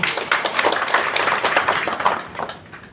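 Audience applause breaks out at a KADIN Indonesia Sharia Economic Outlook speech, a dense, steady patter of many hands clapping that holds for about three seconds before tapering slightly, with no voices over it.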